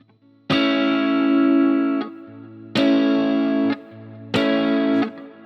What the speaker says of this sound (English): So we have the slap and a strum with your first finger.